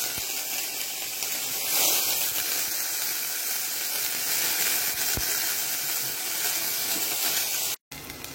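Finely chopped onion fries in ghee in a pan, giving a loud, continuous sizzling hiss that holds steady throughout, with a faint scrape or two and a short cut to silence near the end.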